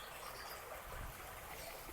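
A weak trickle of water spilling from a pump-fed pond waterfall, a steady soft splashing wash that stays faint and even throughout with no voices.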